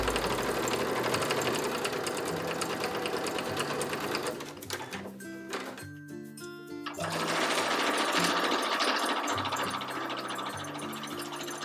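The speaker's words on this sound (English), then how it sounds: "I want to go over the stitching like 5 or 6 more times" Sewing machine running steadily as it stitches fabric coasters, a loud continuous mechanical whir and rattle with brief pauses and speed changes midway, no talking.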